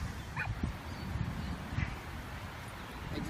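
A dog barks and yips a few times at a moderate distance over a steady background rumble, with short whimpery calls in between.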